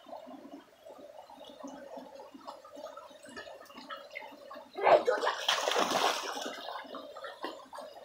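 A creek in a ravine churns and splashes as someone ducks under the water, a sudden loud gurgling burst midway through that tapers off, with faint voices and quieter water before it.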